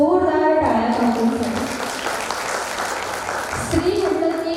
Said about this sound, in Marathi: तर त्यांच्या कार्याला सलाम म्हणून एका जोरदार टाळ्या वाजवून